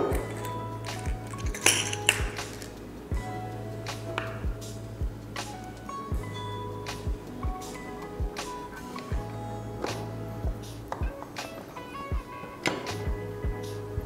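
A metal nut fitted onto an LED track light during assembly, giving repeated small metallic taps and clinks close up over a steady low hum.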